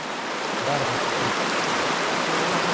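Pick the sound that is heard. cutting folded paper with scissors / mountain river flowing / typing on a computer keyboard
mountain river flowing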